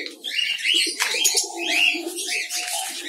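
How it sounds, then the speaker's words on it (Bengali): Several pigeons coo close by in a bird farm, soft throaty calls overlapping in a continuous murmur. "এই যে দেখেন অর্ধেক কবুতর কিন্তু এখানে আছে"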